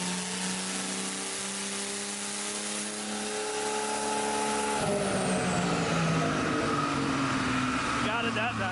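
A turbocharged Chevrolet Trailblazer engine runs on a dyno with a loud, sustained roar, its pitch climbing steadily as it revs up. The sound shifts to a rougher, busier drone partway through, with voices talking over it.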